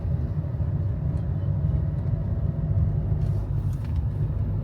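A CNG-powered car's engine pulls in third gear up a winding Himalayan road, a steady low rumbling drone heard from inside the cabin, continuous and fairly loud.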